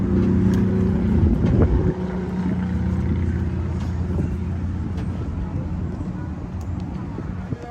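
A boat engine rumbles steadily close by with a low drone, while voices murmur faintly in the background, on a safari boat in the Florida Everglades.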